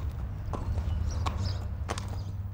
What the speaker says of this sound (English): Some of the horses run through their paces in a parade of breeds